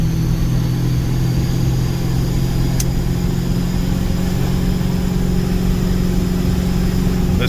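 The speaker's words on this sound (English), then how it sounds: "It's all the exhaust brake of the truck holding it back." A compound-turbo 6.7 Powerstroke truck engages its exhaust brake while towing, giving a loud, steady, low droning roar that runs unbroken throughout with no talking.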